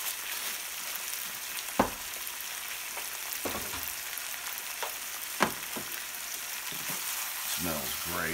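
Garlic, tomato, capers and olives for pasta puttanesca saute in a pan, giving a quiet, even sizzle with a couple of sharp utensil knocks, close up and without talk.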